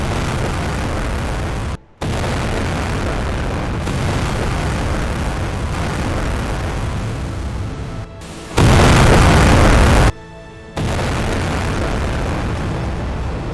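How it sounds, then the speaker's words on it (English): Loud, sustained booming and roaring blasts from a meteorite striking a station hangar, causing fires and explosions, fill the whole stretch, broken by brief silent gaps, with one especially intense burst near the end. "A meteorite strikes a hangar at the station, causing fires and explosions."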